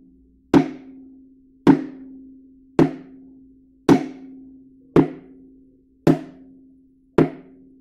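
A plastic bucket used as a samba drum, struck seven times at an even, unhurried pace with the wrong end of a small stick, each hit a sharp, hollow knock with a short ringing tone decaying before the next, close and alone.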